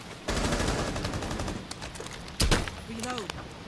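A light machine gun firing in Rainbow Six Siege, rapid sustained bursts of loud automatic fire with a short pause, while a player talks excitedly over it.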